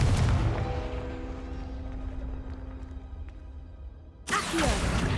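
The Confringo fire spell from the Hogwarts Legacy video game goes off in a booming blast that slowly decays into a low rumble. A second sharp burst follows near the end, and a faint tonal game ambience lingers beneath.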